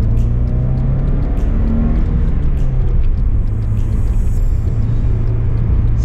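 A 1989 BMW E30 318iS engine drones steadily from inside the car while it drives through Paris, a low rumbling hum with a slight pitch change partway through and road noise underneath.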